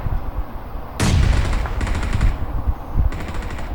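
Grenade thrown and exploding in PUBG on the Erangel map, a sudden loud broadband blast at about one second followed by sustained rumbling and a second burst of gunfire-like impacts near the end, with no talking.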